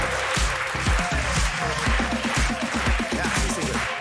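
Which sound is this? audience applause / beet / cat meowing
audience applause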